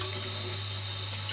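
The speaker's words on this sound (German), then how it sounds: "das müsst ihr unter Wasser tun" Steady rush of water running from a tap, a constant even hiss with a low hum beneath, close by and alone.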